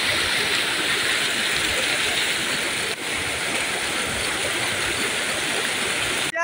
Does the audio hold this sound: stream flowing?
yes